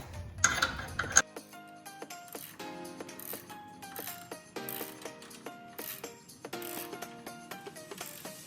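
Ratchet wrench tightening the mounting bolts on the rack and pinion of a wrecked C5 Corvette during a rebuild: a dense run of quick metallic clicks and clinks, with a brief louder rattle at the start, close and steady throughout.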